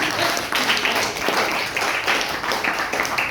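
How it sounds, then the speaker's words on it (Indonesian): Students clapping for a classmate in a classroom, a loud, dense round of close handclaps lasting a few seconds. "Oke, tepuk tangan untuk Intan."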